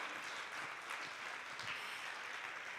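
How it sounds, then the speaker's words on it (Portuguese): Congregation applauding at a church service led by a woman pastor, a steady, even wash of many hands clapping at moderate distance, fairly faint and continuous, with no talk. "dê uma salva de palmas a Jesus"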